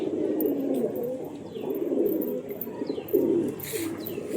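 Pigeons coo in low, rolling phrases that repeat close by, with faint chirps and rustling around them.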